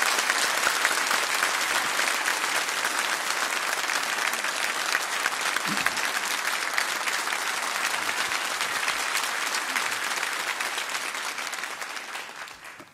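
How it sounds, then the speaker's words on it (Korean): A church congregation gives a long, loud round of applause to welcome the pastor to the stage during a Sunday service, dense and even, fading toward the end. "큰 박수로 목사님 모시겠습니다"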